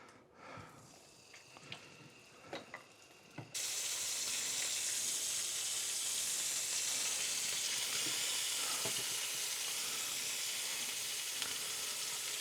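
Halloumi cheese frying in oil in a pan, a few soft clicks and taps before a sudden loud, steady sizzle takes over and hisses continuously.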